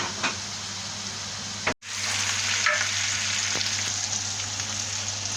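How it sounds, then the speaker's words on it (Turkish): Kokoreç sizzling loudly in a pan with tomato sauce while being stirred, a steady broadband frying hiss with a few scraping stirs and one brief cut near the start, no talking. "Domates sosuyla birlikte karıştırıyoruz ve kavuruyoruz."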